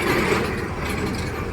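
A piling rig at a highway construction site bores deep pile holes, giving a steady, loud mechanical grinding and clanking hum that runs unbroken throughout.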